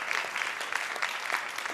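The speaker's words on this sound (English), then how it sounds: "Would you give him a round of applause?" Audience applause at a union gathering honoring past international presidents, a steady dense wash of clapping hands throughout, moderately distant and unbroken.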